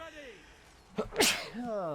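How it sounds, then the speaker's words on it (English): A single sharp human sneeze, loud and close, with a quick inhale before it, heard between stretches of a man's speech while he plays a Warhammer strategy game. "I sneezed."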